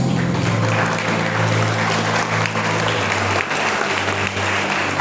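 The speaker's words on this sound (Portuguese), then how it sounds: "Tome seu assento, aplaudindo a Jesus." A church congregation at a conference service claps steadily, a dense, loud wash of applause lasting throughout with a low background hum.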